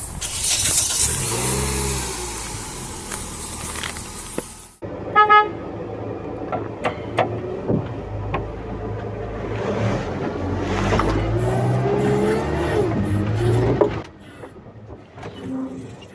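Veter all-terrain vehicle on a TREKOL-16 chassis by a small lake, its engine running loud and steady with changing pitch as it drives, a few short clicks and toots breaking in midway.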